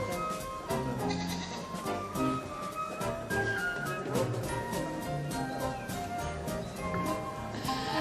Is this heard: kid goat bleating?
yes